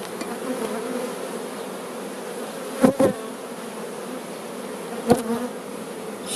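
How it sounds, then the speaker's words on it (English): Honey bees buzz inside a hive during a spring inspection, a steady dense drone with two brief louder surges partway through. "There's going to be a lot of extra bees in this hive soon"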